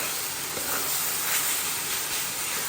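Leafy greens fry in a pan with a soft, continuous hiss, even and close.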